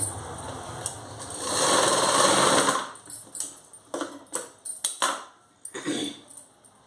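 A sewing machine runs a rough stitch along blouse fabric in one short burst of close whirring, followed by scattered clicks and handling knocks.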